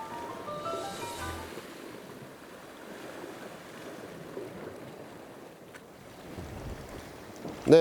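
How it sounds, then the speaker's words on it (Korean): Strong wind buffets the microphone over rough winter sea off Seopseom island, Jeju, with a continuous low roar of waves and gusts and no voices. "들물이 되자 이렇게 몸을 가누기가 힘들 정도로 상당히 강한 바람이 불고 있습니다"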